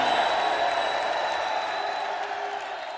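A studio audience applauds and cheers for singers on a TV show, a steady wash of clapping and crowd noise that slowly fades.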